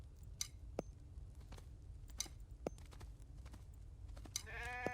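Sheep bleat in a farming survival video game, a short distinct call near the end among scattered ticks and clicks over a low background hum.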